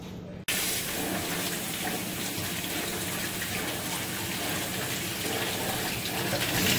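Tap water runs in a continuous, even stream as onions are washed under it. The flow starts abruptly after a short quiet moment and stays close and steady.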